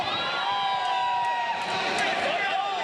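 Arena crowd at a Canadian heavyweight title fight involving Salar Gholami cheering loudly and continuously, a dense roar with whoops and shouts, with a commentator's voice running through it.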